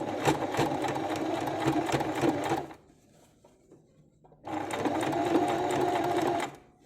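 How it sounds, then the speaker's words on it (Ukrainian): A sewing machine stitches a small fabric pouch in two steady bursts of rapid needle clatter, close and clear, separated by a short quiet pause. "опускаємо лапку і вирівнюючи зрізи відповідно до краю лапки, починаємо зшивати"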